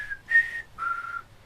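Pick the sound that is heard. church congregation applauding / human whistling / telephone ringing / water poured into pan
human whistling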